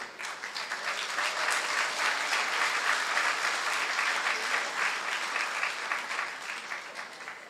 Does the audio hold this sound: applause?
yes